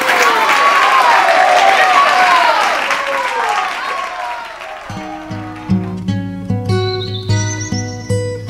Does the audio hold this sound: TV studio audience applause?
yes